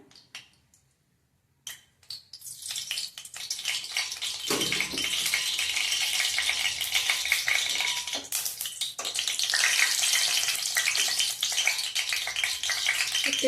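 Masala paste dropped into hot oil in a kadhai for a Malvani chicken curry, a brief silence then a sudden steady sizzle and crackle that continues with stirring scrapes, moderately loud.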